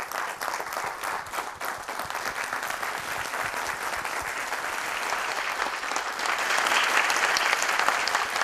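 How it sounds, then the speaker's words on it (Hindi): Audience applause for a speaker at a motivational talk, steady dense clapping from a crowd that swells louder toward the end, with no voices over it. "सर के लिए एक बार जोरदार ताली होना चाहिए"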